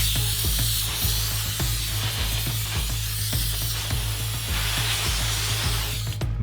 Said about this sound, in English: we heat the builds with compressed air again